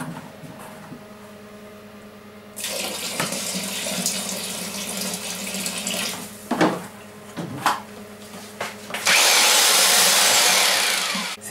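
Water gushes from a tap into a barrel of plum must for homemade plum wine, starting abruptly as a loud, close rush, with a few knocks and a brief pause before a stronger, steady pour at the end.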